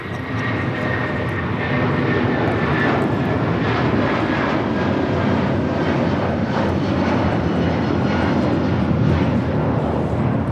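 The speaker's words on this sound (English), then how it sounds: "This is United Airlines 2743 taking off to Newark on the 757-200." A United Airlines Boeing 757-200 takes off at LAX, its jet engines a loud, steady broadband roar heard from a distance without break.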